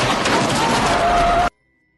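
Dense gunfire and explosions from a film car chase roar loud and continuous for about a second and a half, then cut off abruptly to silence.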